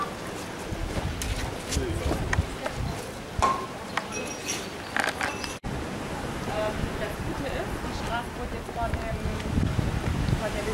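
Strong wind sweeps across the private beach of a hotel resort in Fethiye, roaring and buffeting the microphone steadily with surf beneath, while people talk over it.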